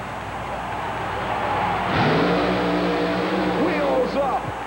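A supercharged Chevy monster truck engine roars and revs at a 1991 USHRA arena event in St. Paul, Minnesota. It is loud and sustained, rises sharply partway through, and plays under an announcer's voice.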